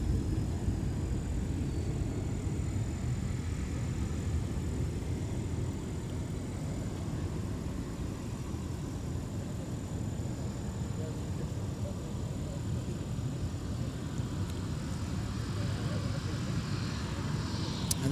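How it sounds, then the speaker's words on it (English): An Allegiant airliner, delayed in from Asheville, arrives at Minneapolis–St. Paul airport with a steady, broad engine roar that stays even and fairly distant throughout, with wind-like rumble and no talk. "There's our delayed Allegiant flight from Asheville."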